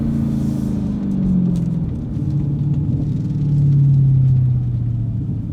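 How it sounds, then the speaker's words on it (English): Deep, throaty V8 exhaust rumble from a Dodge Challenger with an MBRP 3-inch cat-back quad-exit exhaust, swelling and falling through downshifts, loud and steady with burbling pops between shifts. "Now, throw a few downshifts in it, just sounds so good."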